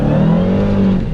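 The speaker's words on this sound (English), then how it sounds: "Wow, that supercharger whine is so loud." A supercharged 2018 Dodge Challenger Hellcat Widebody howls close by, a loud, steady supercharger whine riding over the deep engine roar as it accelerates hard.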